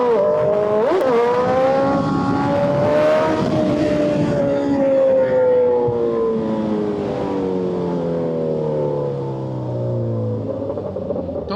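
A Suzuki Hayabusa Gen3 superbike, fitted with performance modifications, revs hard during a wheelie, its loud engine note rising then falling steadily away over about eleven seconds as the bike pulls off.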